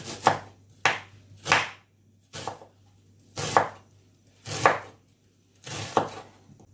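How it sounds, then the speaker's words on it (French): A knife chops onions on a board in seven crisp, evenly spaced strokes, close up, with no talking. "on va couper nos oignons."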